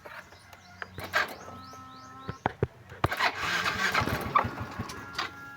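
Yamaha Mio i 125 scooter with a check-engine fault cranks and catches in short bursts, then dies, with irregular cranking clicks and a brief rough run fading out; a faint voice is heard in the background.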